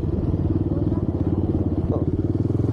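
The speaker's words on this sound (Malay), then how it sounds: "Motor RS ni. Motor atuk." A Honda RS motorcycle, an old village bike, idles and putters with a steady low throbbing engine note close by, running unbroken through the moment with a faint clatter near the end.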